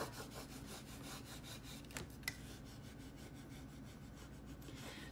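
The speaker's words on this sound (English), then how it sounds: "I'm just going to rub this until I transfer this all on" Paper being rubbed by hand to transfer a rose drawing onto a painting surface, soft rhythmic scratchy strokes repeating steadily and close, with a couple of brief louder scuffs.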